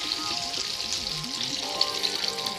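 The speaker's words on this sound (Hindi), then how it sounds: "इसे गोल्डन ब्राउन होने तक फ्राई करेंगे हम लोग मीडियम फ्लेम पर" Batter-coated chicken pieces deep-fry in oil over a medium flame, a dense, continuous sizzle and crackle with small pops, close and fairly loud, no voices.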